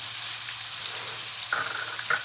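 Onions frying in a pan ahead of sea bream, a steady bright sizzle running throughout with a few soft stirring scrapes near the end, close and without talk.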